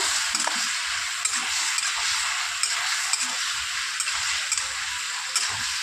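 Ridge gourd is stirred with fried cumin and stone-ground onion paste in a pan, giving a dense, steady sizzle with regular light scraping taps of the stirring utensil.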